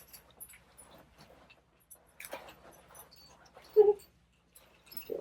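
A dog lets out a short, faint whimper or yip in a quiet indoor room, with soft rustling and a couple of brief movement sounds around it.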